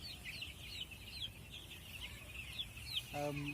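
A flock of broiler chicks on a poultry farm makes a continuous chorus of high, thin cheeps and peeps, fairly faint and steady, with a short clucking call near the end and no speech.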